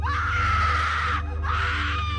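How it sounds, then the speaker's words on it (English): A woman's shrill, ear-piercing scream rings out loud and close at night, holding one high sustained wail, breaking off briefly, then rising again over a low steady hum. "I woke up to the disturbing and ear-piercing scream of my wife"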